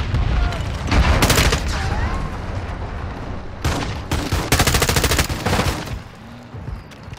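Call of Duty gunfire, repeated bursts of rapid automatic shots in two main volleys with scattered single reports between them, loud and close, while players talk over the shooting.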